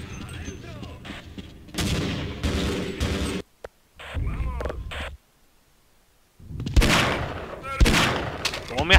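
Gunfire in the Half-Life video game, including a Magnum revolver, rings out in repeated loud bursts between pauses, with a player's voice talking over the shots.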